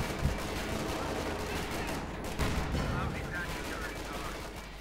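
Tank cannon and gunfire from a Panzer IV and an M4 with a high-velocity 76mm gun in a Company of Heroes 2 1v1 match, sounding as dense continuous battle noise with a few sharper thumps, under faint commentary.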